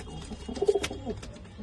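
A pair of pigeons, a Lombori-line female and a Bangal Giri male, gives a short burst of soft, throaty cooing at close range, with faint background noise and no talking.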